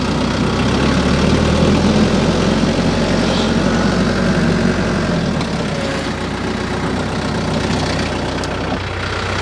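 A heavy 7,000-pound tractor engine idles close by with a loud, steady low rumble and mechanical clatter; the deep tone drops slightly partway through, then continues evenly.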